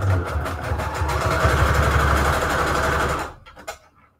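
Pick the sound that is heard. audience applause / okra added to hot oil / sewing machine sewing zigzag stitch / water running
sewing machine sewing zigzag stitch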